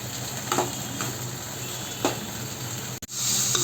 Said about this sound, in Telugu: మీడియం హీట్లో గ్యాస్ పెట్టుకొని మంచిగా పుదీనాని ఫ్రై చేసుకోండి